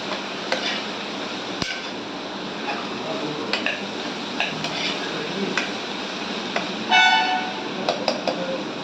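Vegetables sauté in ghee and oil for vegetable rice, a steady low sizzle with occasional scraping stirs and sharp utensil clicks against the pan, close and moderately loud.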